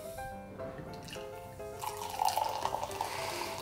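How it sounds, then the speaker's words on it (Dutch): Sparkling, foamy wine is poured into a glass at home, a bright trickling and fizzing stream that rises in the second half, close and fairly quiet, with no talk over it. "ik zal het even voor jou inschenken"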